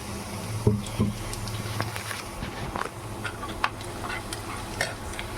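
Semolina poured into a pan and stirred while prasad is cooked, giving a soft scraping and rustling with faint sizzle, a couple of louder knocks near the start, steady and close with no talk.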